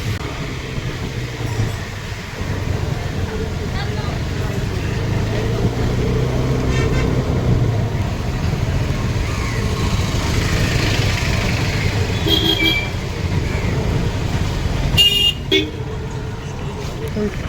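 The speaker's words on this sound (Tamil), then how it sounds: "முன்னாடி யாரும் பஸ் போகிறனால கொஞ்சம் டிராஃபிக் அதிகமாகவே இருக்குது." Busy road traffic near Velankanni church, with a bus ahead and vehicles rumbling past continuously, punctuated by a few sharp horn toots late on, while people talk over the steady din.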